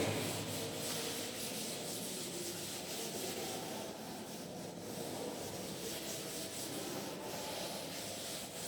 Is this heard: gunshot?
no